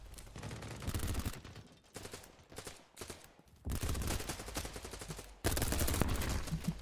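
Bursts of automatic gunfire in BattleBit Remastered, a multiplayer military shooter, loud rattling volleys broken by short pauses, the last stretches heavy and sustained.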